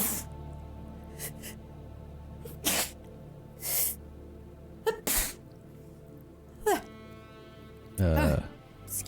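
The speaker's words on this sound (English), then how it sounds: "It just started sneezing a whole bunch." Someone sneezes repeatedly in loud, sharp bursts spread across the moment, with a few quieter breaths and small noises between them.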